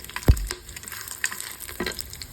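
Whole biryani spices and cashews fry in a pan for prawn pulao, a brief sizzle opening with a sharp thump and then settling into light, steady crackle with a few small pops.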